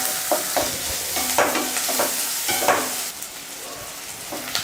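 Onions frying in oil in a pan for a Tamil keerai kootu, a steady sizzle broken by repeated scraping stirs of a spoon against the pan, close and with no talk.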